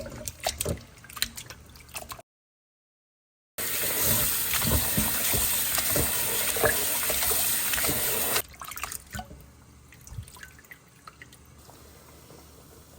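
Running water rinsing small pieces of cut meat for biryani in a home kitchen: dripping and trickling, then a loud steady gush for several seconds after a short gap, easing back to drips.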